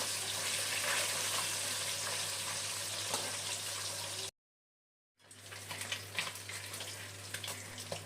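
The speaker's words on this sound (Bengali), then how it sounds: "আবার একইভাবে বাকি মাছগুলো ভেজে নেবো" Small tangra fish sizzle steadily in hot oil with a constant low hum, broken by a short moment of complete silence before the frying noise returns.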